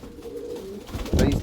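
Pigeons coo softly in a low, murmuring drone that swells louder toward the end, alongside feeding birds with no troughs, with no speech.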